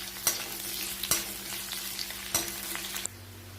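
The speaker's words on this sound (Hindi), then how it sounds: "प्याज को हम हल्का सुनहरा होने तक घी में फ्राई करेंगे।" Sliced onion fries in ghee over low to medium flame with a steady soft sizzle, and a spoon scrapes and stirs the pan a few times in short clattering strokes, close and quiet, with no voices.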